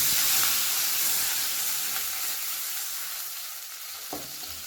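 Water is poured into a sizzling pan on a low gas flame for a Bengali fish curry, making a loud hissing burst that slowly settles into a softer simmer, with a light clink near the end.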